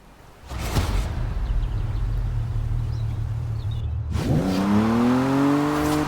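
A Jaguar car in the racing game Forza Horizon 4, with a low engine drone and whoosh, then a loud, close rev that climbs sharply through rising gears in the final seconds.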